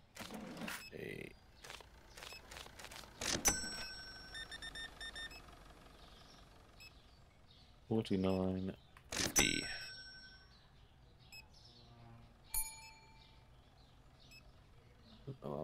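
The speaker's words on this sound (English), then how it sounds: "Alarm's going off." An alarm sounds in the Supermarket Simulator video game as short repeated electronic beeps, with other bursts of game sounds around them and someone talking at times.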